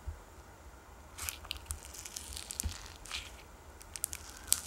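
Soft, irregular crackling and popping from fingers pressing into slime with cherry blossom beads, small close pops scattered over a quiet background with no voices.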